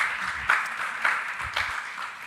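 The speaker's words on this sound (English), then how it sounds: "let's applaud our panelists" Audience at a Jamaica Teachers' Association education conference applauds the panelists with a steady, moderately loud wash of clapping, a few sharper bursts standing out, heard alone without talk.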